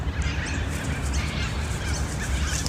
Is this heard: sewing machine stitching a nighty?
no